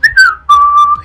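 A person breathes through the nose with an exaggerated whistle: two short, high whistling tones in quick succession, loud and close, with nothing else around them.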